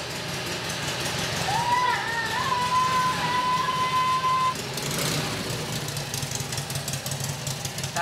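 An engine runs steadily under a person's talk, a rough mid-level rumble, with a sustained horn-like tone partway through. The motorcycle is ridden by someone in Puerto Rico.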